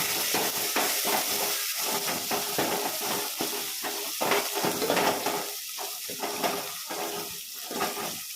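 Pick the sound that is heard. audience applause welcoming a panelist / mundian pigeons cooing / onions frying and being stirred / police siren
onions frying and being stirred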